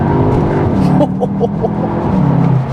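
A Cupra Leon hot hatch with a DSG gearbox accelerates with a loud, close engine drone whose pitch dips and rises across a gear change, a few brief tones sounding over it.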